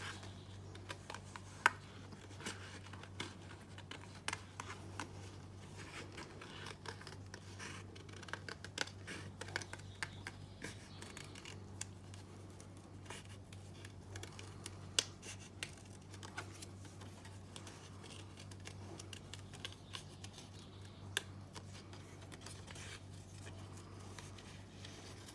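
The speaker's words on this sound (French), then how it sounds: "on peut faire avec les ciseaux." Scissors cutting through a paper card, a faint steady stream of small snips and crisp rustles over a low background hum, close by and without talking.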